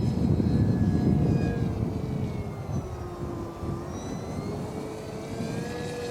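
FinWing Penguin FPV model plane making a slow flyby in strong wind, its propeller motor whining steadily with slowly shifting pitch over heavy wind rumble throughout.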